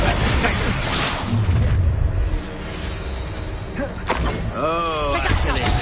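Confringo and Bombarda spells explode in Hogwarts Legacy combat, with deep booming blasts and thuds at the start and again midway, mixed with game effects and a speaking voice.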